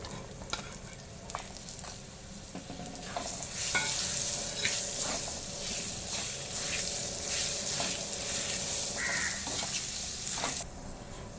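Chopped raw mango pieces frying and sizzling in spiced oil, a steady hiss with stirring clatter that swells louder after a few seconds and holds to the end.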